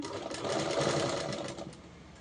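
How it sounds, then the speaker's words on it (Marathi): A sewing machine stitches a finely folded hem on old saree fabric, a close, steady rapid whirring run lasting about two seconds before slowing. "अशी बारीक फोल्ड करून टिप मारते"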